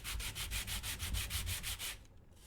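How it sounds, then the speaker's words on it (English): Sandpaper rubbing rhythmically over a tiny 1:12 scale wooden Nicholson workbench model, about a dozen quick, even close strokes that stop near the end, leaving quiet room tone. "it's going to be a sanding ASMR for a little bit"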